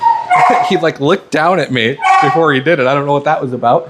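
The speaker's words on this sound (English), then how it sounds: "I again want to apologize for the dog in the background" A dog barks in the background behind a close, continuous voice talking during a leashless sit training session at home, the yips and woofs partly buried under the speech.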